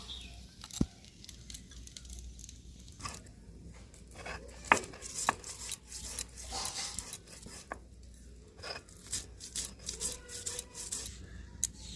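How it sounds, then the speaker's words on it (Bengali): Fresh ginger is ground into paste on a stone, a steady close-up rasping and rubbing that runs throughout with scattered knocks and scrapes, and no one speaks. "এবার আমি আদাটাও বেটে নিচ্ছি।"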